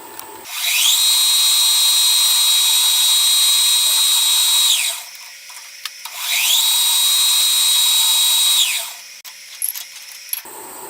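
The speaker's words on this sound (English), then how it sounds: "So I'll go ahead and drill this now" A power drill whines twice drilling a metal steam chest part for a Stuart Turner No. 8 mill engine, each run several seconds long with a steady high pitch that rises at the start and trails off, followed by faint clicks.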